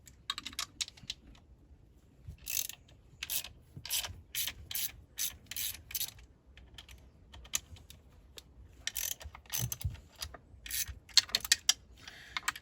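Ratchet wrench clicking in short bursts while someone works on an old boat, dry metallic ticks coming in irregular clusters with pauses between, close and moderately loud, no talk.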